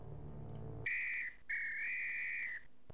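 In the video game Return to Zork, a whistle blows twice as two sustained, clear tones, the second longer, following a brief low hum and standing alone.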